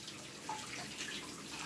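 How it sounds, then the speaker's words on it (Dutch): Water running in a home shower as a steady, close, broadband hiss with a few faint drip-like splashes, and no talking. "En dan ga ik nu nog eens een lekkere douche nemen."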